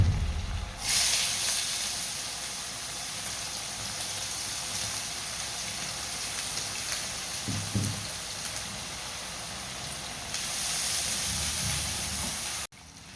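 Onions tossed into a hot pan of oil burst into a loud, steady sizzling hiss that rises sharply at the start and keeps going, with a few soft utensil knocks before a sudden stop.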